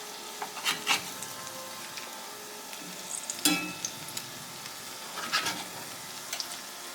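Tuna patties frying in a pan on medium heat: soft, faint sizzling with occasional crackles and pops, quiet and close, with no one speaking.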